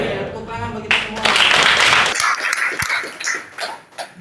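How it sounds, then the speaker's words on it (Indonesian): Classroom clapping at a vocational high school (SMK 51) lesson, a burst of many hands starting about a second in and fading after two seconds, with students' voices and chatter continuing around it. "tepuk tangan bagi kita semua"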